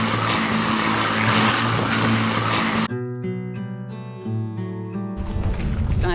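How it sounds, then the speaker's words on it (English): A propeller aircraft drones loudly overhead, its engine tone steady then shifting in pitch as it passes. "Aeroplanes!"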